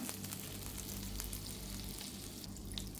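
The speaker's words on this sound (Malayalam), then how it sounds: "ആദ്യം തന്നെ ഒരു പാൻ ചൂടാക്കി അതിലേക്ക് നമുക്ക് കുറച്ച് ബട്ടർ ഇട്ട് കൊടുക്കാം." Unsalted butter sizzles and fries steadily in a hot pan while preparing butter garlic eggs, a dense continuous crackle at close range with no voices.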